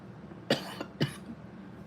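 Two sharp coughs about half a second apart, close and fairly loud, over a quiet background hum.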